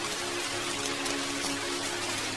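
Rain falling steadily in a film scene, a soft, even hiss of drops that continues unbroken and fairly quiet throughout, with no voices.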